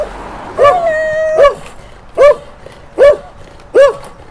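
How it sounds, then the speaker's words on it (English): A dog gives a drawn-out, whiny yelp followed by three short, evenly spaced barks, close and loud, with no one talking over it. "This is such a funny dog"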